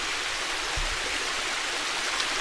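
Stream water at a spring on an island flows in a steady, dense broadband rush with no pauses, close and continuous, with one soft low thump partway through.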